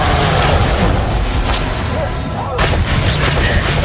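Bombarda explosion spells cast in Hogwarts Legacy, with loud booming blasts and dense crackling combat noise filling the whole stretch, a couple of sharper bursts standing out.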